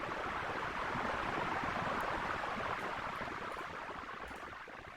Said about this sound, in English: it makes water sounds, but it's pretty cool